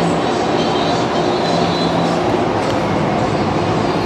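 The DFW Airport Skylink people-mover train departs, giving a loud, steady rolling roar with a faint whine and no talk over it.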